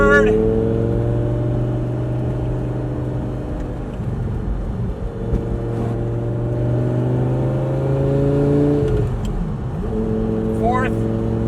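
A Lamborghini engine pulling hard through the gears, pitch climbing and then dropping at each upshift in repeated sweeps, loud from inside the car. Someone talks over it.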